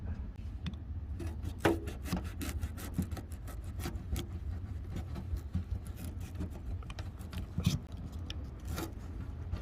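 A rusty knife cuts through a Hongsan garlic bulb in a series of close, crisp scraping and cracking strokes, irregular in rhythm, with no talking.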